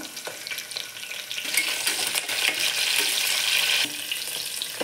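Cashews, green chilies, curry leaves and cloves crackle in hot oil for coconut rice, a loud, close, continuous sizzle that swells midway, with faint stirring knocks.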